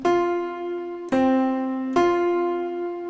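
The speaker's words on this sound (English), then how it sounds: "Here's our C, and then we go up to the F." A sustained musical note, C, rings out, then a second, higher note, F, is struck and held, followed by another strike of the same note.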